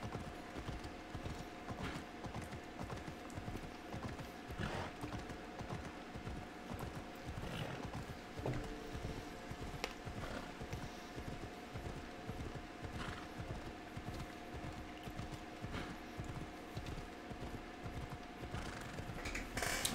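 Hooves of a horse in the Assassin's Creed video game beat in a steady, continuous clip-clop rhythm under mechanical game ambience, with a faint whinny mixed in.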